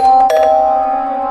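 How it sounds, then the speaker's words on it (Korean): A doorbell rings once, a bright two-tone chime that sounds loud and clear and then trails off in a fading ring. "초인종이 울렸습니다"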